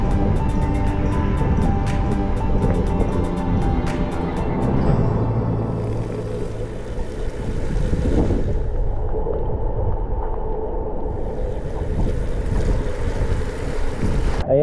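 Heavy storm wind roars and rumbles over rough sea waves along the Catanduanes coast during a typhoon bike loop, a loud continuous buffeting with surging surf and no talk.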